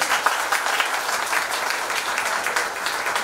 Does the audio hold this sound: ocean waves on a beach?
no